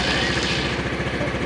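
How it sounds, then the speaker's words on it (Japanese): A Honda DAX125 motorcycle engine catches and runs, a fast, even low-pitched thumping pulse like a small single-cylinder idle, close and steady throughout. "ダックス、エンジン始動です。"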